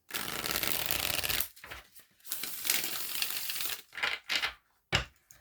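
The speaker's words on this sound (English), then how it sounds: "I love the way these cards shuffle. I could just shuffle them." Crisp riffling of a tarot card deck, a long continuous shuffle followed by several shorter bursts and a final snap, close and fairly loud.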